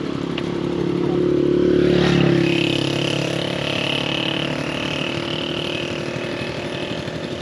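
A farm water pump engine runs steadily at close range in agricultural fields in Badoc, Ilocos Norte, Philippines. It gives a loud, continuous motor drone with rattling clatter, swelling slightly in the first seconds and then holding even.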